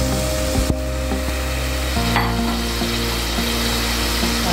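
Soaked black chickpeas frying in oil with ginger-garlic paste for a Tamil kurma, a steady close sizzle with a couple of spoon knocks against the pan and soft background music.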